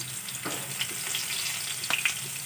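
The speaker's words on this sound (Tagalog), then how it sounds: "Low heat lang natin ang apoy para mas maganda ang pagkaluto ng ating bawang" Minced garlic frying gently in a pan over low heat for pork adobo with tausi, a soft steady sizzle with a few faint stirring clicks, close and alone.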